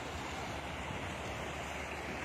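Fast-flowing floodwater rushing in a steady, dense roar that stays constant throughout, without talk.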